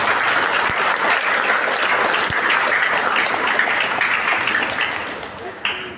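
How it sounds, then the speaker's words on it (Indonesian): Applause for a church choir at a Mass, a full, steady crowd clapping that stays loud before tapering slightly near the end, with a faint voice briefly audible underneath. "Kita berikan tepuk tangan buat anggota KOR."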